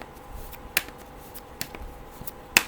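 Oracle cards being shuffled for a weekly reading, heard as a few light, close riffles and taps that come in short bursts over a quiet background, with no talking.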